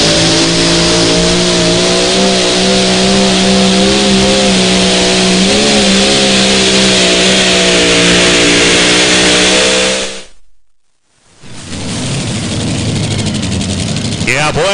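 At a 2023 tractor pull in Benson, North Carolina, a pulling tractor's engine roars at high revs under heavy load while dragging the sled, loud and sustained, then cuts out briefly before roaring again, with announcer talk over it.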